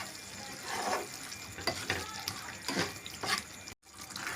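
Repeated scraping strokes of a spoon stirring a bubbling potato gravy with garam masala in a pan, about five rhythmic sweeps over a soft simmer, close by.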